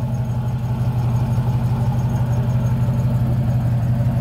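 A 1996 Morgan Plus 8 with a 3.9-litre engine and aftermarket exhaust idles with a steady, deep, throbbing growl, a loud and close low pulse running evenly without revving or speech.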